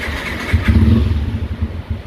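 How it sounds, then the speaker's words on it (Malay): A Yamaha Y15ZR motorcycle engine fitted with an Apido tuning ECU cranks and fires up close by, then settles into a loud, steady idle with no one speaking. "kita try kita start motor."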